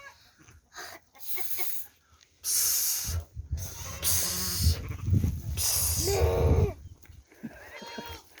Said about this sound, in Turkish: Melesene.